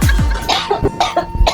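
Loud, close coughing in a comedic Chhattisgarhi short film, two sharp coughs at the start followed by several more rough bursts, with no talk over them.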